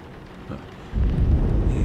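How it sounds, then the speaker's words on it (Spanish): Heavy rain pours outside in the horror game Alone in the Dark, a steady dense hiss that swells into a deeper, louder roar partway through, with no voices over it. "llueve mucho"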